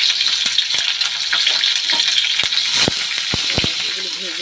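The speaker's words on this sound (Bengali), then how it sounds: "এগুলো ভেজে নিই, কারি পাতাটাও দেবো, কাঁচা লঙ্কাও দেবো, দিয়ে ভেজে নিই।" Onions, curry leaves, carrot and green chillies fry loudly in a pan, a dense close sizzle with spatula scrapes and clinks against the metal; a voice talks briefly underneath.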